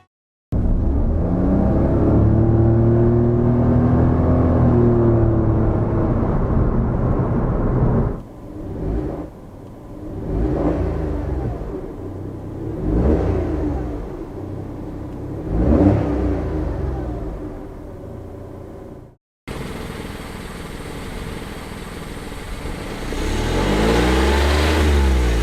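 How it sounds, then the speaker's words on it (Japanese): Suzuki Swift ZCEDS engine heard while driving, a steady loud hum that rises and falls through several revving surges before a brief cutoff and a harsher, brighter stretch of engine noise at the end. "エンジンの音を収録したシーン"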